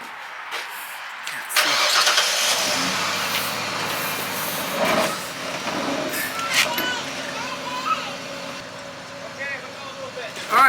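A five-speed Mustang 5.0 cranks and catches with a sharp burst, then settles into a steady, throaty idle rumble close by, with people talking over it.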